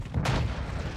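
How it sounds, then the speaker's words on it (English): A deep boom from a cruise missile strike in Call of Duty, a single low, rumbling blast with a sharp crack at its onset, then a fading rumble, fairly quiet overall. "Friendly cruise missile inbound."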